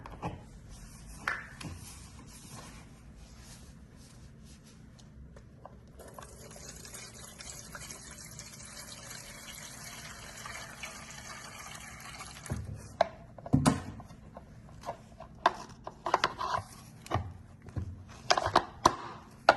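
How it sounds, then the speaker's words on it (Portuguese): Alcohol being poured through a funnel cut from a plastic bottle into an eco fireplace burner, a steady faint trickle and fill sound, ending in a run of sharper splashes and clunks. "Agora nós temos que colocar o álcool. Usamos essa garrafa cortada para servir de funil"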